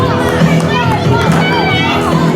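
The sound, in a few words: wrestling crowd booing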